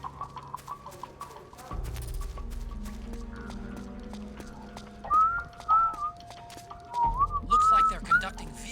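A person whistles a few short rising and falling tones over a video game soundtrack, with quiet clip-clop and background game effects underneath.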